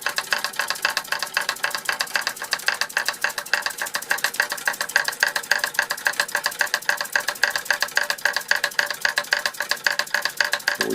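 A 1905 Fritz Neumier model steam engine drives rebuilt Martinet model steam hammers, giving a fast, steady mechanical rattle and rapid even tapping that runs on without a break, fairly close and moderately loud.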